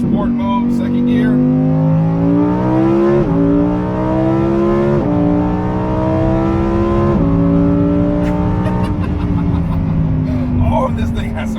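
A Lamborghini Huracan EVO AWD engine revs hard in sport mode, accelerating in second gear and climbing steadily in pitch, with brief dips at each gear change, loud and close throughout.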